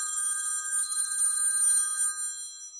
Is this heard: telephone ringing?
yes